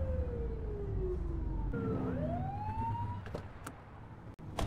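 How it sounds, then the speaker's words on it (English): A police car siren in the video game The Precinct wails in rising and falling sweeps, loud and close, over a low engine rumble, then tapers off near the end. "Get on their tail and flip the siren."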